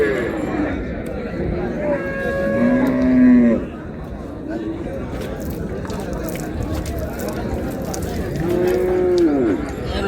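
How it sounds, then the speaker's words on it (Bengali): Dairy cows and calves at a busy cattle market in Raniganj, Dinajpur. A cow gives two distinct moos, one early and one near the end, over a steady background of crowd chatter and nearby talking. "গাভী বাছুর।"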